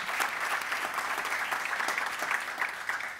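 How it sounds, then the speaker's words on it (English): An audience at a personal branding session claps in steady, continuous applause of moderate loudness, heard slightly at a distance with no speech over it. "Give Sean a round of applause for capturing this insane photo of Leslie."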